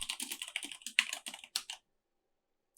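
Rapid clicking keystrokes on a computer keyboard, a close burst of typing lasting under two seconds, then silence and one last key press.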